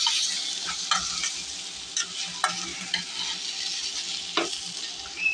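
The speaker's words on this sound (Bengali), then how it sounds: "এখন নাড়াচাড়া দিব" Taro greens cooked with black cumin fry and are stirred in a pan, a steady sizzle broken by occasional scraping clicks of a spatula, close and alone with no talk.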